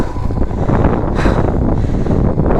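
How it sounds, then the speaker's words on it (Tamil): Strong sandstorm wind batters the microphone during a motorcycle ride across the Ladakh desert, a loud, continuous roar and buffeting that fills the whole stretch with no voices. "சாண்ட் ஸ்டார்ம் வேறு. ஸோ பயங்கர டெரிஃபிக்காக இருக்குது."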